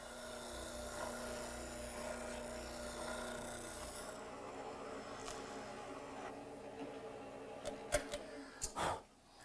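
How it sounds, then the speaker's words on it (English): A drum sander smooths a wooden stop piece for a miter bench, a steady low rasping hum with a few sharper scraping bursts near the end. "Now I'll smooth it up with a drum sander."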